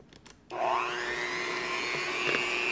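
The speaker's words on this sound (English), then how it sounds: "we're gonna just take our egg beater and you can go ahead and mix that all up" Electric egg beater whipping butter for keto muffins, switching on abruptly after a moment of quiet and then holding a loud, steady, whining motor hum close by, rising slightly in pitch as it spins up.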